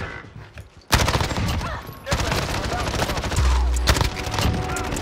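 Gunfire in a shooter video game, heavy automatic bursts that start suddenly after a quiet moment and continue densely to the end, with a deep boom partway through and a voice talking over the shooting.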